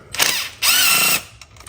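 Power tool driving out Torx bolts on an Audi A6 C7 3.0T during PCV valve work, two loud close bursts of whirring, the second longer and steadier, then short clicks.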